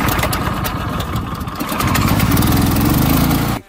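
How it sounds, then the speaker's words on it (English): A 14-horsepower commercial engine powers an HFE-28 portable sawmill, running with a steady, loud drone that grows slightly fuller midway before cutting off abruptly at the end. "it's again a structurally strong built mill, boasting a 14 horse commercial power engine."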